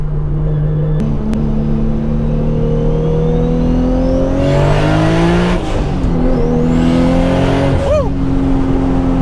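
Toyota Supra engine revving while driving, a loud steady drone with pitch rising through the gears, dropping at shifts and surging again, close and continuous, with occasional voices inside the car.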